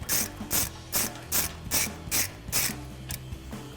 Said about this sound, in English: Then I'll switch over to my 1/2-inch drive ratchet with my 19 millimeter